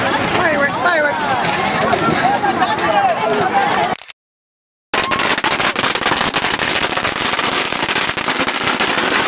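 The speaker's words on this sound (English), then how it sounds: "Oh, I gotta move fireworks" Firecrackers and fireworks crackling rapidly and loudly at a dragon boat festival in China, dense popping bursts close by, cut by a brief silence before resuming, with crowd voices mixed in.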